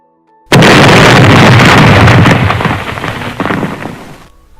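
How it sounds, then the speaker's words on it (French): A huge explosion represents the Chernobyl nuclear plant disaster. A sudden loud, broad blast erupts after a brief silence, then rumbles and roars for several seconds before cutting off. "Tchernobyl explose."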